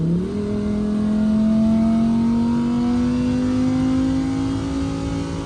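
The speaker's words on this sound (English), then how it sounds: "I'm gonna open up the valve so you can hear the engine." A 2023 Lamborghini Huracan EVO with its exhaust valves open, the engine droning loud and close with a rising pitch as it pulls steadily, no talk over it.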